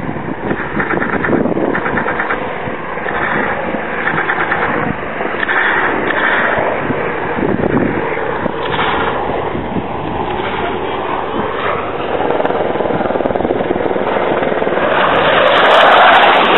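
Tornado F3 jet aircraft flying an attack display at the 2008 Waddington air show, a loud continuous roar of jet engine noise filling the whole stretch and building louder toward the end.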